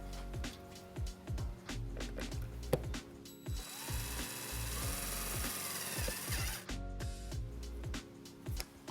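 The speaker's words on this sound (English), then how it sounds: "Now we're going to attach our white wire to the ground with our provided self-tapping screw." A self-tapping screw is driven into a 2008 Hyundai Tucson's body to attach a trailer-wiring ground wire, giving a steady close-up whirring drive with ratcheting clicks that builds into a louder burst midway before stopping.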